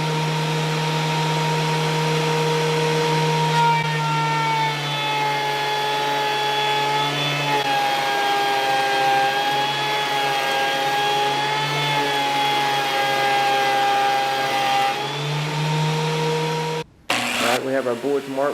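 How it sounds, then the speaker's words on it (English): A planer running on a 2x10 board for a tabletop makes a sustained, loud motor whine with steady tonal harmonics that shifts slightly in pitch as the wood feeds through, then cuts off abruptly near the end. "get this tabletop planed down on the planer"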